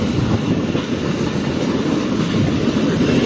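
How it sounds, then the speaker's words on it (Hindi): The 42 Down Karagram Express, an Indian train hauled by a diesel locomotive, rolls steadily past close by with a loud, continuous rumble of wagons and rail noise, and nobody talks. "ये है 42 डाउन करागरम एक्सप्रेस।"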